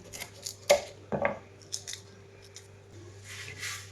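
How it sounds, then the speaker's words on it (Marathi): Scissors snipping green chillies in a home kitchen, a series of quiet, close crisp cuts at an irregular pace over a faint background hum. "आता ह्या सगळ्या मिरच्या कापून घेते"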